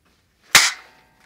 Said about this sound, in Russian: Холостой выстрел.